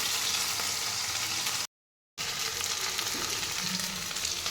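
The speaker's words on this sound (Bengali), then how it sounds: "দুবারে তিনবারে অল্প অল্প করে দিয়ে ভেন্ডিগুলো ভালো করে সুন্দর করে মুচমুচে করে ভেজে তুলে নেব।" Okra fries in a pan with a loud, dense, steady sizzle, interrupted by a brief moment of silence.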